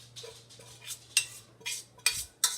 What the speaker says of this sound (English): So I'm going to add our rice into our meat.